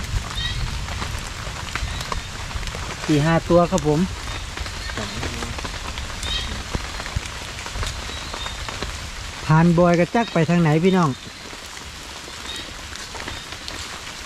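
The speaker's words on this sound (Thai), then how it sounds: "วันนี้ฝนตก" Rain falls steadily outdoors on a night of frog-baited hook fishing, a soft constant patter, while someone talks in short bursts over it.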